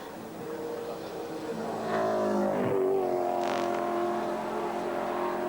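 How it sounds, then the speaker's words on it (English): Andy Rouse-built Rover Vitesse touring car racing at Bathurst in 1985, its engine droning steadily with a rising pitch sweep as it passes, loud and close with no talk. "Rover Vitesse, Andy Rouse built machine, still running very, very strongly in a beautifully turned out car"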